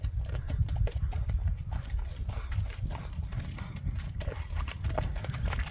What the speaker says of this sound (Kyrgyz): аламан улакка чабылган ат экен